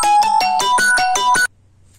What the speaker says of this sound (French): Désolée, c'est mon téléphone qui sonne.